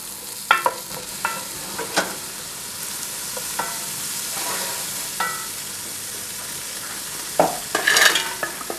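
Chopped shallots sizzle steadily in a hot pan, with scattered clinks and scrapes of stirring punctuating the constant frying hiss; no voices.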